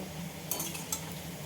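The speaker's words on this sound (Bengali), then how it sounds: "আমি আলুটা এবার আস্তে আস্তে তুলে নেব" Reddish fried potatoes are lifted out of a pan with a metal utensil, making two short, close scraping clinks over a steady low kitchen hum.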